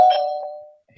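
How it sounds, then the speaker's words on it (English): A doorbell chime played on a computer gives a single clear ding that rings out and fades over about a second, heard alone and close. "They heard the doorbell on your computer?"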